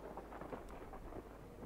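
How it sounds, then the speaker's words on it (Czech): Distant thunder rumbles low and faint beneath a steady wash of rain, in a Total War: Warhammer 2 battle with no voices. "Počkej, tady bouřka nějaká."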